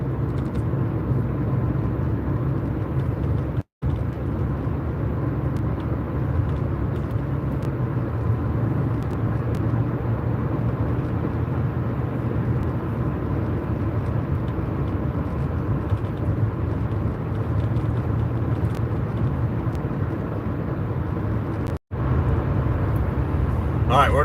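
A car driving on a road back into Naples, steady low road and engine rumble heard from inside with a voice talking over it throughout.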